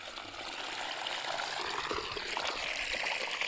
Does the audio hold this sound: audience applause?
no